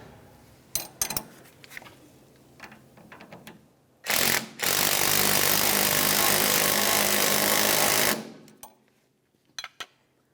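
A power tool runs in one loud, continuous burst of several seconds while tightening the lower control arm bolts on a 2002-2005 Ford Explorer, with scattered metallic clicks and clunks before and after.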